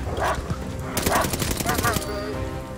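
Dogs bark in the shooter game Call of Duty Vanguard, a few sharp, fairly loud barks mixed with gunfire-like clatter and other game noise, with a voice speaking briefly.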